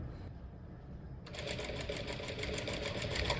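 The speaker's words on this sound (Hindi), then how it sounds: "आप अब सिलाई शुरू कर रहे हैं, हल्का से जमा लो।" After a quiet pause, a nearby sewing machine starts stitching a blouse with a fast, even, rhythmic clatter that continues to the end.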